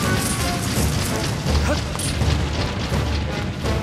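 A bomb blows up in the video game Skyward Sword, a loud, dense boom that rolls on as a steady roar through the whole stretch.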